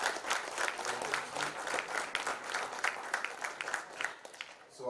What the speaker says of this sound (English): Y'all clap it up for the quarterback.